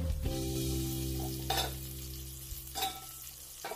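Stuffed capsicum frying in a pan gives a steady, close sizzle, with two brief louder bursts of crackle as the peppers are shifted or stirred.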